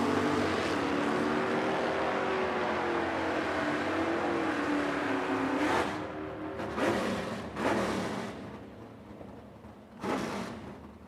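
A 1972 Ford Mustang makes a drag strip run at a racing event in Edmonton. A loud engine roar climbs steadily in pitch, then breaks into several sharp bursts as it pulls away, with no talking.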